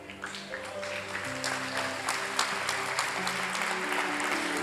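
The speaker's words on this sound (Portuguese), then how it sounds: "Aplauda o Senhor." Church congregation applauding together during a Portuguese-language service, a dense, steady wash of clapping with organ or keyboard chords sustained underneath.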